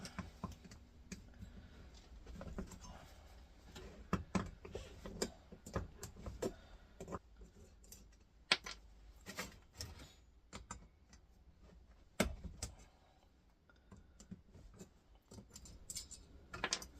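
Screws being backed out of the rear casing of an Xbox 360 during scrapping, heard as scattered small metallic clicks and ticks with uneven gaps, close and fairly quiet, with no talking.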